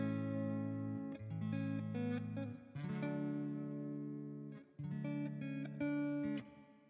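Clean electric guitar strumming chords through an Amplitude 5 Twin Reverb amp model with no chorus and reverb set low, steady chord phrases with brief breaks, close and alone.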